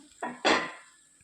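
A spoon scrapes and clatters twice against a pan while a broad bean fry is stirred, two quick close knocks followed by a soft fading scrape.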